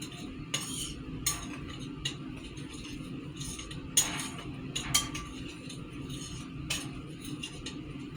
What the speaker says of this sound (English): And you're going to want to mix that up a little bit also, to get all that salt and pepper and the cornmeal and the flour all together.